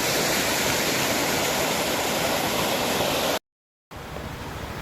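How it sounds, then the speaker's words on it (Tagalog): A waterfall in Mayoyao, Ifugao pours as a loud, continuous broadband rush, cut briefly by a moment of silence before the roar resumes. "dito may mga nakatagong falls"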